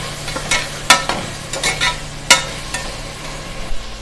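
Chopped tomatoes with salt sauté in a pan for chicken biryani, a low sizzle broken by a spoon scraping and tapping the pan in irregular strokes, close and clear, with no voices.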